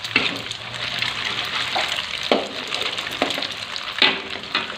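An egg frying in a pan for petai fried rice sizzles loudly and close, cooked until foamy, with scraping stir strokes breaking in at irregular intervals.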